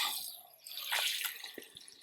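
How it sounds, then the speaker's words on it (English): Water trickles and drips into a small water bowl in a tarantula enclosure, a soft close pouring splash followed by a few distinct drops, with no talking. "we're going to put a bit of water in the water bowl"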